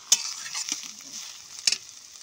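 Ash gourd cooking with grated coconut is stirred in a hot pan, giving a steady soft sizzle with a few sharp scraping clicks of the spatula, close and fairly quiet, with no talking.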